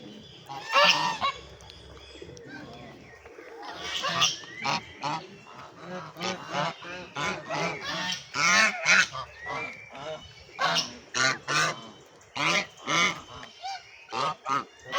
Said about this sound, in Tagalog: Granny Goose. Quack, quack, quack, quack. Granny Goose